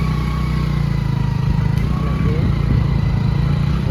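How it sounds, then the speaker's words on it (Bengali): A motorcycle engine drones steadily at close range, a constant rumbling hum as the bike rides along. "এখন আমরা কিন্তু বেরিয়ে পড়েছি বাইক নিয়ে"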